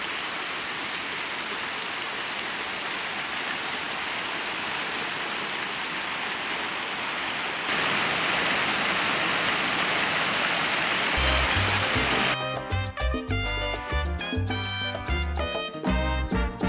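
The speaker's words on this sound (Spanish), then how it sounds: "El agua en esta cascada artificial ya se está empezando a congelar" An artificial waterfall in New York in winter, its water starting to freeze, pours in a steady, loud broadband rush; near the end music abruptly starts over it.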